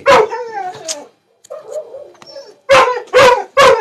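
A small dog barks repeatedly at close range, with bursts of sharp yips separated by softer whimpering and short pauses.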